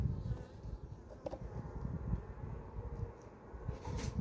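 Honeybees on a hive frame in winter give off a low, uneven hum close by, with a few faint clicks and knocks from handling the frame.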